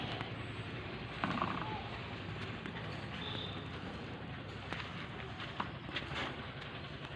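A yarn winding machine in a handloom weaving workshop runs with a steady mechanical whir and faint rhythmic clicking and creaks, a continuous close drone.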